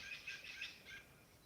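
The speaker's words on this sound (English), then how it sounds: "Let me listen to the birds." Birds chirp outdoors in a faint, quick run of high tweets with a soft background hush and no talking.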